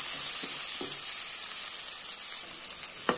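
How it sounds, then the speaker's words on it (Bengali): Onions frying in hot oil tempered with nigella seeds and a green chilli, a steady bright sizzle running throughout with a few soft stirring knocks, no voices. "পেঁয়াজটা 2 মিনিট"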